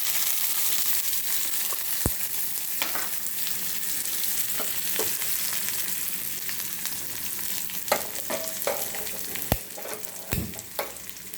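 Onion frying in hot oil in a kadhai with mustard seeds and cumin, a steady sizzle throughout with occasional sharp crackles and pops of stirring, close and alone without any talk.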